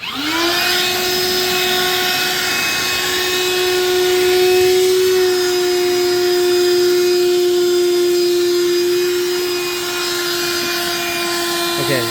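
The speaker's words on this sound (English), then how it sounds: "let's vacuum all that out right there" A vacuum cleaner sucks up cement dust, a loud, steady whine with a constant motor tone running throughout, with a person talking briefly over it.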